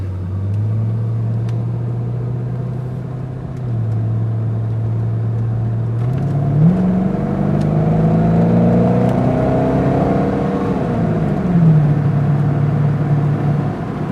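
A car accelerating hard up to 65 miles an hour, the engine droning steadily, then revving higher through gear shifts with rising whine and rumble, loud and close from inside the cabin.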